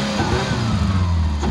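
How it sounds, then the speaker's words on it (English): A 4x4 Ford Escape fitted with a race exhaust revs nearby, a loud, rumbling engine note that rises and shifts over a short burst, with no voices. "Got my race exhaust on there"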